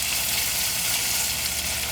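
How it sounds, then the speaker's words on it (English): Spices and onion sauté in hot oil for a village-style salmon fish curry, giving a steady, close sizzle that stays even and continuous throughout, with no talking. "we're going to allow the spices to saute in oil for a while."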